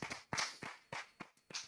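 A few people clap in a brief, sparse burst of applause for a two-time world team karate champion, with separate sharp claps spread over a couple of seconds at moderate level.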